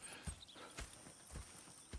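A few spaced hoof thuds from horses in Red Dead Redemption 2, soft and fairly faint against a quiet outdoor background.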